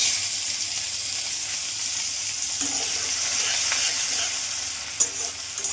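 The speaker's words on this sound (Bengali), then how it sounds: "এবার ছেড়ে দিচ্ছি কড়া পেঁয়াজ।" Onions sizzling in a hot pan, a constant crackly hiss with occasional light scraping and a brief knock near the end.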